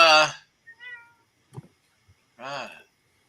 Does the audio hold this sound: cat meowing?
yes